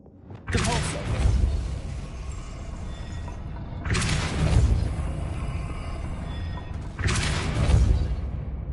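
A Depulso spell cast in Hogwarts Legacy, three loud whooshing blasts with deep booming tails about three seconds apart, each rising sharply and decaying into a mechanical rumble.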